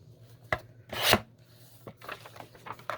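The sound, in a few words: trimming the edge of a handmade journal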